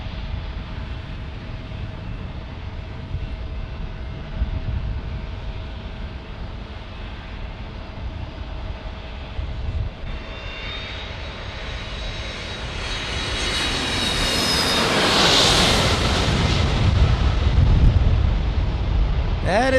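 A fixed-wing airliner passing overhead at night in San Diego, its engine roar building steadily from a distant hum to a loud, close rumble with a rising whine near the end and lingering turbulent rumble.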